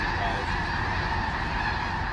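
Migrating waterfowl honk at a water impoundment in the Bois de Sioux watershed, a continuous, fairly loud din of many calls with no talk.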